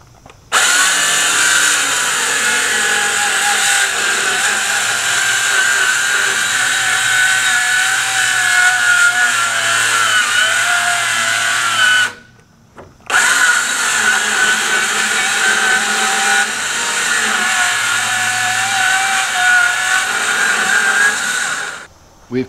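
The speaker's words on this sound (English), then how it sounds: "We've cut the board. It was a ripping cut. That little portable Ryobi circle saw did a remarkable job." Portable Ryobi circular saw ripping lengthwise through a board for a utility trailer deck: a loud, continuous high whine holds for about twelve seconds, stops briefly, then resumes for another long cut and winds down at the end.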